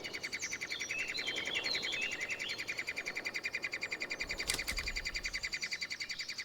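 Three-toed woodpecker chicks in a mountain forest beg for food with rapid, high, repeated chirping calls, steady and continuous, fairly close, with a brief rustle or knock near the end.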